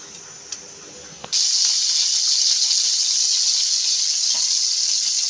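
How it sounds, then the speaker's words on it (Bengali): A quiet room, then a sudden steady hiss begins after a soft clatter, continuing loudly and evenly like oil sizzling in a hot pan. "এখন কড়াইয়ে তেল দিয়ে দেবো।"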